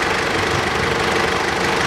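A 2008 Mitsubishi Pajero with an automatic gearbox idles while parked, its engine giving a close, even hum with a slight knocking vibration and no other sounds.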